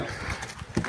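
Draught horses' hooves clip-clop a few times nearby on hard ground, with a louder thud near the end over a low background.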